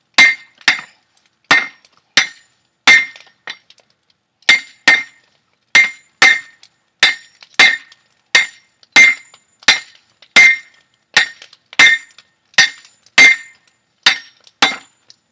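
Hammer blows ringing on steel and an anvil while forging, sharp metallic strikes in steady groups of two or three with short pauses, close and loud, each with a brief clinking decay.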